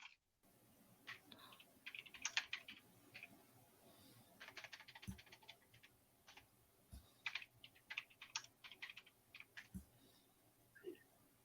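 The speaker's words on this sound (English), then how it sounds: "all you can hear is the clackety clack clack clack of a keyboard" Steady clackety typing on a computer keyboard, close by and fairly quiet, with irregular bursts of keystrokes and a few heavier thumps of the space or enter key, no voices.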